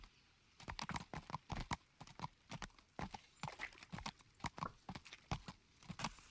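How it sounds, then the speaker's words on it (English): Horse hooves clip-clop in a steady walking rhythm, close and clear, in the medieval video game Kingdom Come: Deliverance, with an occasional whinny and no talk over it. "Oh, that's the horse. That's our horse anyway."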